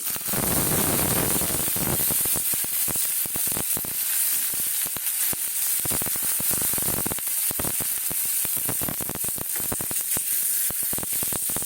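Cumin, sesame seeds and curry leaves hit hot oil in a kadai as tempering for crispy potato pakoras, opening with a loud hiss that settles into a steady close sizzle full of rapid popping crackles, without voices.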